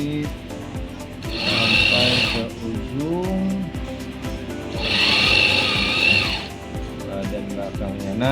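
A sewing machine stitches a women's blouse in two bursts of steady whirring, each lasting about a second. A high motor whine overlays the low mechanical rattle, and quieter handling sounds fall between the bursts.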